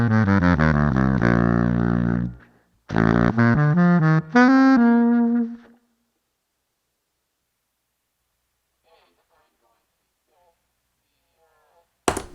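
A saxophone runs through a Line 6 HX Stomp pitch whammy with the octave-down effect on, giving a few loud, thick sustained notes in two phrases, then a long silence ending in a brief burst.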